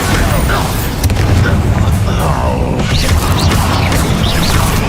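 Bombarda blasting spell explosion in the video game Hogwarts Legacy, heavy booming crashes and impacts rolling continuously through the clip amid dense combat noise, with a voice heard faintly in the mix.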